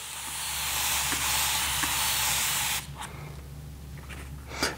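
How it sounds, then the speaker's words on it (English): Steady hissing mist from a spray bottle, continuous for a few seconds, then it cuts off, leaving quieter background with a few faint clicks. "So let's spray the back."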